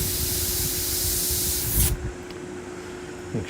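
An airbrush blows a loud, steady hiss of air across the surface of a skull, then cuts off abruptly partway through. Faint handling noises follow in the quiet afterward, with no talking.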